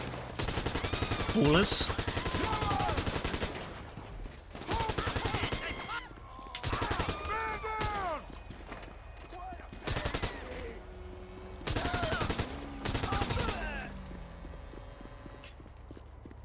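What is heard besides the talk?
gunfire from a gun in the video game GTA Online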